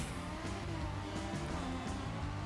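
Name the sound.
racing car engine revving in video game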